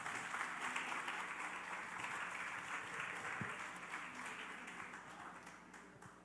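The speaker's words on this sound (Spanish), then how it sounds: "Por favor, un fuerte aplauso." Audience applause after a talk on informed consent, a steady, fairly soft wash of many people clapping throughout, gradually thinning toward the end.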